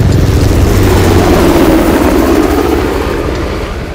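A helicopter in Uncharted: The Lost Legacy gives a loud, steady rotor and engine roar that fills the whole stretch, easing off slightly toward the end, with no one talking.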